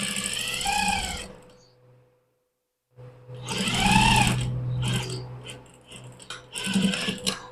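Sewing machine stitching a sleeve placket, bursts of fast rhythmic needle chatter separated by a quiet pause, close and moderately loud with a low motor hum underneath.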